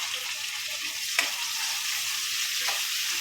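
Tomato and curry leaves frying in a pan for yellow moong dal, a steady close sizzle with soft stirring scrapes and a couple of brief clinks.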